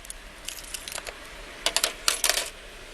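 Keys to a Scion car jangle and clink in short metallic bursts, faint at first and then louder in a few quick rattles, with no talking over them.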